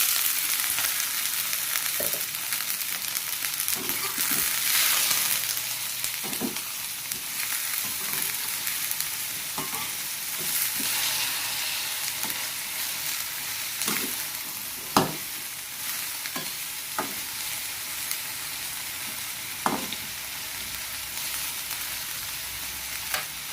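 Bitter melon stir-fries with cooked spice paste in a pan, a constant loud sizzle with scattered spatula knocks and scrapes throughout.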